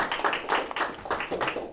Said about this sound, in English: One more big round of applause for Autumn.